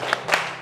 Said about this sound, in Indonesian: Ya, sekarang tepuk semangat dulu.